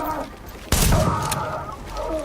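A single sharp gunshot from a powerful gun in The Division video game, a loud burst partway through with a short decaying tail over quieter game ambience.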